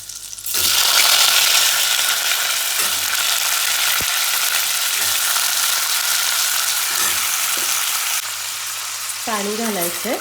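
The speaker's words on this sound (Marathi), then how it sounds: "आता याच्यामध्ये घालायचे रताळ्याचे काप," Sweet potato slices drop into a hot pan with cumin, green chillies and ghee, setting off a loud, steady close sizzle that holds to the end, broken by a few knocks and a brief voice near the finish.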